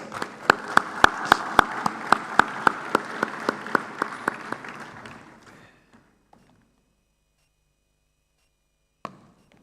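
Applause at a conference summit session as a board member walks to the stage: sharp, evenly spaced rhythmic claps over a bed of clapping that fade out after about five seconds into near silence, with one lone thump near the end.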